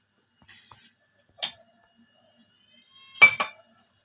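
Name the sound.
metal slotted ladle being oiled, clinking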